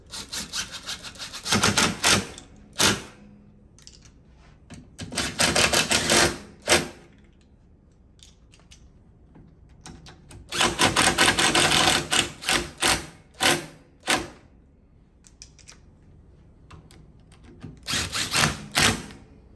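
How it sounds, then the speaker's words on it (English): Bolts being driven back in with the glides on one section of a motion sofa, heard as repeated bursts of a power driver spinning, each a second or two long, with quiet pauses between, close and fairly loud. "I'll add the bolts back in with the glides."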